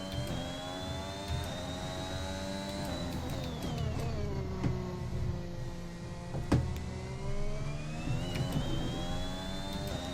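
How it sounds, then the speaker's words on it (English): A Honda-powered Formula 1 car in the F1 2021 racing game gives a sustained high-pitched whir and whine that swoops down as it slows, then climbs again as it accelerates. It stays steady and prominent throughout, with no talk. "The whir of the engine is actually going to annoy me, I think. It might be because we've got the Honda engine."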